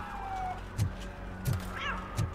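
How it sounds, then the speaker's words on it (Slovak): A cat crossing the road in the video game Robocop: Rogue City gives three short meows spaced about evenly apart, fairly close, heard alone over a low steady game ambience. "Mačka cez cestu"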